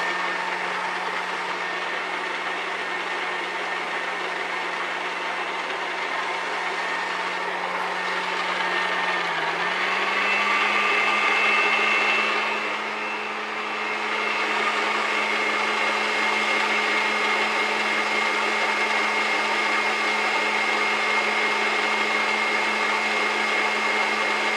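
Steady electric mixer whirring as it kneads garlic stick dough, a continuous loud drone that briefly swells and dips midway before settling back to an even hum.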